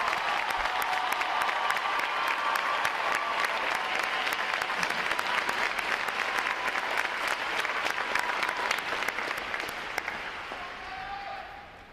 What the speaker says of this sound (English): Please join me in giving them and 10 other graduating divisions here today a round of applause for outstanding performance.